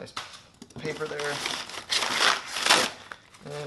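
Paper packing crinkling as a Perrin rear sway bar is unboxed, a few short rustling bursts up close with someone speaking over the rustle.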